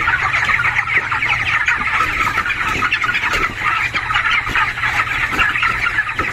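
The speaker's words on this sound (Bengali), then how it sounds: "ওই যে দেখো একটা কালো মুরগি" Chickens cluck steadily inside a poultry farm house, a dense flock chattering continuously at close range with no voices over them.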